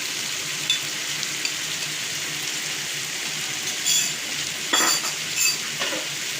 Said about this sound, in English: we add the brinjal inside the masala and give it a nice stir and saute for a few minutes